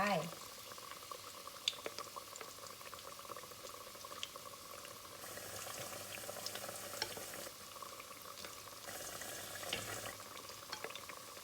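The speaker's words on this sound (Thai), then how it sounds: "ทอดลงไป อย่าเพิ่งไปคนเขานะคะเพื่อนๆ เดี๋ยวไห้กล้วยเซตตัวก่อน" Battered banana fritters fry in a pan of hot oil with a steady, busy bubbling and crackle, fairly close and continuous, as someone talks quietly over the cooking.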